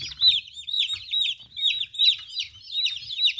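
A group of 36 young broiler chicks peeps continuously, a dense chorus of high, rapid cheeps close by with soft low thumps underneath.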